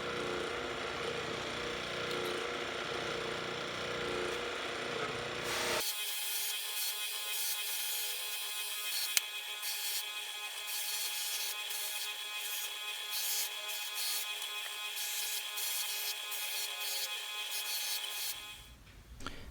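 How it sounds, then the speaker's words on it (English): A power tool buffs the pitted metal hardware of an old Union utility chest to a final polish. A loud, steady motor whine starts abruptly after a few seconds and runs evenly for about twelve seconds before cutting off. "And now for a final polish on the hardware."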